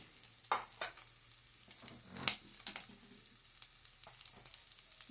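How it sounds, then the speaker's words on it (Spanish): Pork leg pieces sizzle steadily as they brown in a frying pan, with a few louder crackles and spatters, some soft stirring and scraping, and no voices. "Pues vean, la carne ya está doradita."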